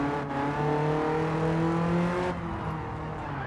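A BMW M3 drift car in Gran Turismo 7 holds a loud, steady engine howl with a whining tone that sits at high revs, then drops slightly as the throttle eases near the end.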